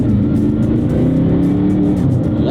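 Audi R8 with the E-gear automated manual gearbox accelerating hard, a loud, close engine roar rising through the revs with brief breaks between gears, heard alone with no talk.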